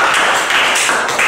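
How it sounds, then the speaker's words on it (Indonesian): A classroom of students breaks into dense, loud applause, a steady wash of many hands clapping close by. "Tepuk tangan buat"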